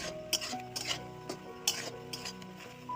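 A drumstick flower pickle is stirred with sugar in a pan, giving soft scraping and scattered light clinks of the utensil against the metal over a steady low background.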